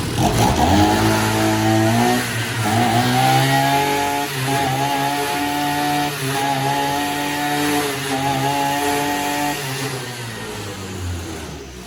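Petrol brush cutter that runs but will not take throttle, its small two-stroke engine revving loudly up and down in repeated swells, close and continuous without speech.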